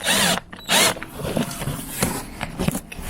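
A power drill drives a screw to fix a part inside a Grand Starex van being converted into a camper, with two short loud whirring bursts followed by quieter scraping and handling noises.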